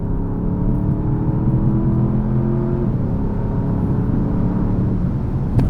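A 2021 Porsche Panamera Turbo S, a 4,700-pound car with no hybrid assist, launches hard from the cockpit, its engine a loud, rising whir and roar that climbs through the gears and holds strong.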